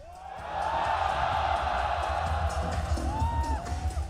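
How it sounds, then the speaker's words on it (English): A live esports crowd at a Counter-Strike tournament cheers loudly for ENCE, a sustained roar of voices and whoops that swells and holds steady at close range. "Make some noise if you're cheering for ENCE."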